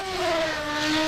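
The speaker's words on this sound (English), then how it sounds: "Nice sounding car." A 1993–94 Formula 1 car engine in the racing sim rFactor 2, a high, sustained whining tone held at steady revs with a slight pitch dip, loud and close with no voices.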